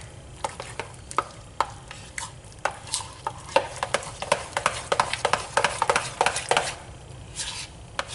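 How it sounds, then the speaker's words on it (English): A spoon scrapes and taps around a pan while beef stroganoff sauce is stirred, irregular clinks and scrapes over a soft simmering sizzle, close and without talk. "Then we're gonna stir that all together."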